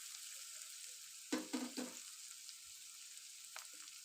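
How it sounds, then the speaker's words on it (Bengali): Ingredients sizzle steadily in a pan for homemade egg chow mein, a constant close hiss of frying broken by a few quick scraping stirs in the middle and another brief clatter near the end. "একটু কিছুক্ষণ এটাকে ভালো করে ভেজে নিতে হবে।"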